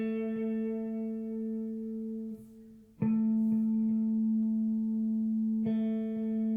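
Guitar picked single notes, a held tone near 250 Hz joined by its octave partner, sounding one after the other then together, sustained and clean with gentle attacks, no voice.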